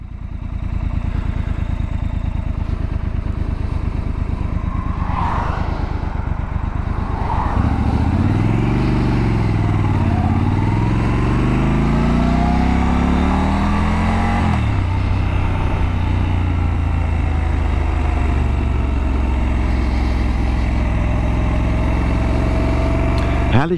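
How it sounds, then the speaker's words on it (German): Cars pass on an autumn country road in Brandenburg, a steady engine drone with rising and falling pitch sweeps as vehicles go by, close and loud, alongside an idling Triumph Scrambler 1200 XE motorcycle. "Lassen wir jetzt aber erstmal die Autos vorbei."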